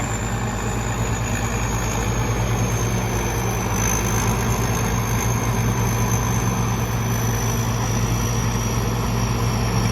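A rice harvester's engine runs steadily while working a small paddy field of clay-sand soil with a little water and lodged rice, a continuous loud droning hum with a faint high whine drifting slightly in pitch, and no talking.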